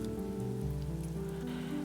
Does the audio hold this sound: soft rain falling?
yes